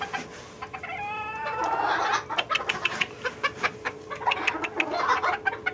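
A seven-month-old young rooster crows nearby in a rising, wavering call, followed by a run of sharp clucks and scratchy bird calls.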